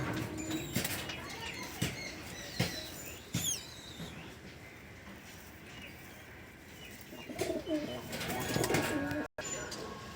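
Pigeons in a loft coo softly and flap their wings in repeated brief bursts, with occasional faint speech in the background.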